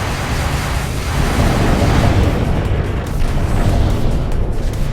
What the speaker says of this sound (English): All batteries return fire.